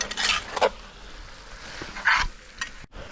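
Tomatoes and green chilies sizzle in a pan for a Kerala beef curry, with steady frying hiss broken by several stirring scrapes at intervals, close and moderately loud with no talking.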